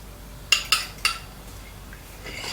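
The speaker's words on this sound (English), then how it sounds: "Mix it until it becomes a very smooth batter" A whisk or utensil clinking against a bowl while mixing eggs into flour batter for a Japanese sponge cake, three sharp metallic taps in quick succession, then quiet faint stirring.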